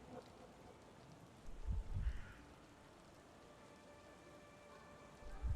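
Steady rain hisses continuously in the background of the video game Sherlock Holmes The Awakened, with a couple of low thumps breaking through; no voices.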